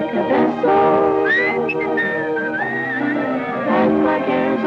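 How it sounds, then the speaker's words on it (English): A person whistles a melodic tune, sliding through bright sustained notes, against a backing of music from a classic comedy film. "When you hear me whistle, whistling down the lane for you."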